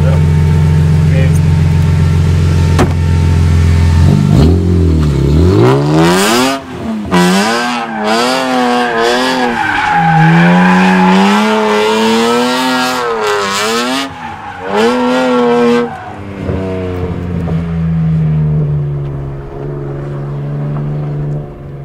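A BMW E46 M3 drift car revs hard and slides over bumps, its engine note climbing and falling in repeated loud sweeps with tire squeal mixed in, close and dominant for the whole stretch.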